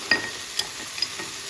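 A soft, steady sizzle of ginger garlic paste frying in a pan, with a few light stirring clicks and scrapes, close and fairly quiet.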